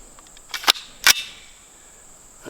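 Two sharp, close shots from a suppressed Honey Badger SD rifle chambered in 300 Blackout, fired at a target 75 yards away, with a brief echo after each shot and a fainter crack near the end.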